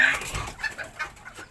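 Serama chickens clucking close by in a short burst of bright, chattering calls that fade quickly.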